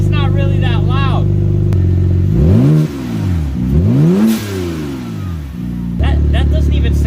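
Car engine with the catalytic converters disconnected, running open dump exhaust on a budget 400+ whp build, revving repeatedly in loud rising and falling sweeps between steadier idle stretches, close to the mic.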